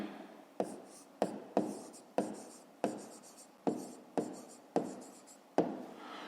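Pen strokes scratch on paper in a steady series of about ten short, close strokes, each beginning with a sharp attack and then fading, as a math answer is written out with no talk.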